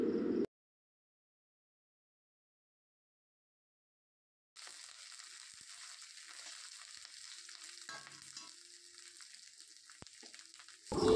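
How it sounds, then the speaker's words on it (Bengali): Ginger garlic paste frying with onions in a pan for a fish-head curry, a continuous close sizzle with occasional scraping of a stirring spoon, after a short burst of sound and a few seconds of silence. "এবার দিয়ে দিচ্ছি আদা রসুন পেস্ট। এবার এটাকে কিন্তু খুব ভালো করে ভেজে নেব"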